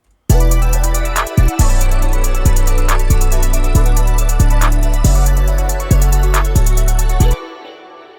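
A loud pluggnb beat from FL Studio drives through the second part of its verse with booming 808 bass notes on a steady rhythm under rapid ticking hi-hats, stopping abruptly at the end.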